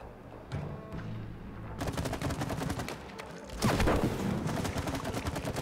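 Rapid game weapon fire from It Takes Two, a dense rattling burst of shots that begins softly, then swells into a loud continuous volley with a sharper surge near the end, no voices over it.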